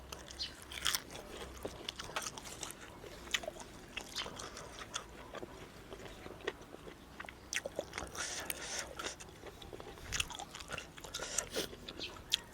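Crunchy chewing of raw beef and liver comes in close, irregular bites and crunches with wet squishes between them, quiet and with no talking.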